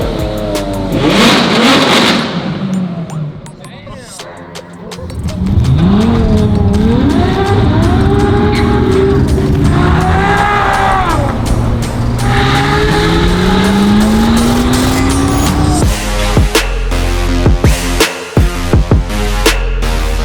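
A G-Wagen engine revs hard in a video game, a loud, continuous roar that rises and falls in pitch with tire squeal, lasting throughout with no talking.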